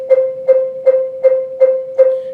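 A mallet keyboard percussion instrument played with a pinched grip, giving a thin, weak tone: six even strikes on one repeated note, each a short attack with quick decay, close and alone.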